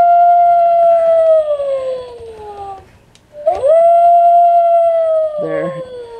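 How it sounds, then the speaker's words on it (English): A dog howls in a house while a Christmas tree goes up, giving two long wavering howls close by, each a sustained tone that slides downward, with a short pause between them. "When he's done howling, he won't howl again"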